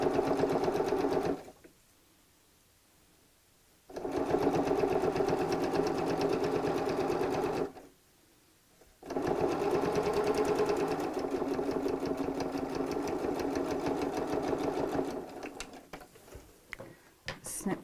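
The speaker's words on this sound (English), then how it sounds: "I'm going to use a long stitch on my machine because this is only top stitching, it's not actually a seam" A sewing machine top stitches a scrappy patchwork bag with a long stitch, a close rapid mechanical chatter in two bursts separated by short pauses, with sparse clicks near the end.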